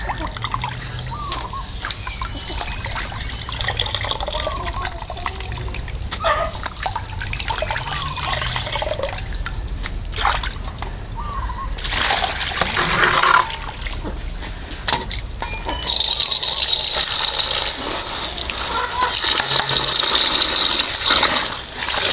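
Tap water runs steadily while small fish are washed by hand, a close, continuous trickling and splashing that swells into a heavier gushing stream for the last several seconds.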